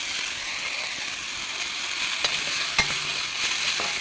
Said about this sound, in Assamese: ঢেকীয়াখিনি এনেদৰে ভাজি লৈ খৰি কেইডালমান কমাই দিছোঁ